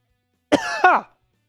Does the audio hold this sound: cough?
yes